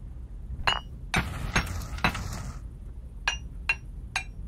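Hammer blows ring on metal at a forge in BlackForge VR, about seven sharp clanging strikes at an uneven pace, some close and bright, over low background rumble with no speech.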